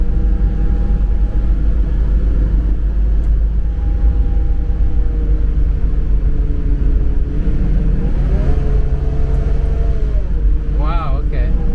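Mercedes-Benz 280SEL 3.5 V8 accelerating hard after kickdown, a steady loud engine roar heard from inside the car with a rising tone near the end, over continuous road and wind rumble.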